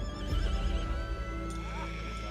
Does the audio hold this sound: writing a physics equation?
no